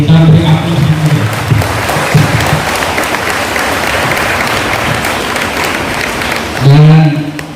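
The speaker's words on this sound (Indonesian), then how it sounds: "Kita beri aplaus yang meriah." Loud, sustained audience applause at an academic seminar on religious moderation at UIN Syahada Padangsidimpuan, a dense clapping wash running throughout, with a speaker's voice briefly heard at the start and end.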